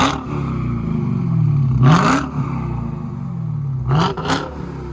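A supercharged 6.2L HEMI V8 in a Dodge Challenger Hellcat with an aftermarket exhaust rumbles at idle, then gives two sharp, loud rev bursts about two seconds apart, each falling back to a deep, steady burble.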